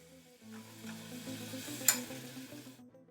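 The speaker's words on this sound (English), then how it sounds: "Flip each sausage so that they will brown on the other side." Sausages for Italian pasta sauce sizzle and crackle steadily in a frying pan, with a brief scrape partway through and no talking.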